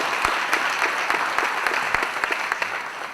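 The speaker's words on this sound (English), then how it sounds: "give all of our NYPD leadership a round of applause" Audience at an Astoria town hall meeting applauding NYPD leadership, a dense, steady wash of clapping from many hands, with individual sharper claps popping out of the crowd throughout.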